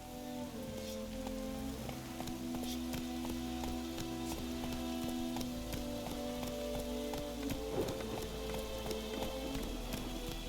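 Steady hiss of rain pattering on surfaces in The Witcher 3: Wild Hunt, constant and fairly soft, with a layer of sustained musical tones running alongside it.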